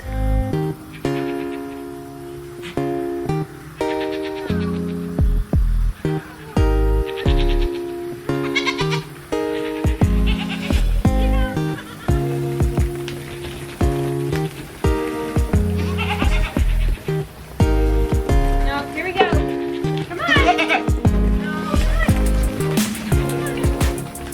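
Tiny Nigerian dwarf goats bleat loudly and often on a farm, with close, insistent calls overlapping one another in a nearly continuous chorus.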